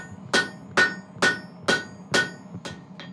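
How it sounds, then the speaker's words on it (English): A hammer strikes steel in a shop, knocking a bowed piece back flat with six sharp, ringing blows at a steady, slightly quickening rhythm, close and clear with no talking. "After that, we just hammer it back flat."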